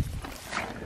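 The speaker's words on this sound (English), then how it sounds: "That's the sound of a happy horse" A contented horse gives a brief, close, low sound lasting under a second, with nothing else going on around it.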